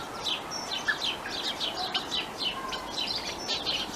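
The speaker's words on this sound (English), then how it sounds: "That starling is singing very noisily" A starling sings noisily outdoors on a cold, sunny Christmas Eve around sunset, a steady stream of bright chirps, whistles and trills repeating close by over faint background hiss.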